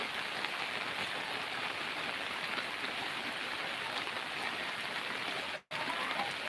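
Heavy rain pours steadily onto a farm where bean and ridge-gourd plants grow, a dense, even hiss of drops close all around with one brief dropout near the end.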